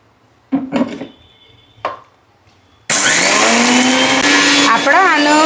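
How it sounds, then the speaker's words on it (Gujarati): A few light clinks and taps, then an electric mixer grinder starts grinding a spice mixture with amchur powder and salt into powder, roaring loud and continuous to the end. "આ બધું મિશ્રણ આપણે મિક્સર જારમાં વાટી લઈશું."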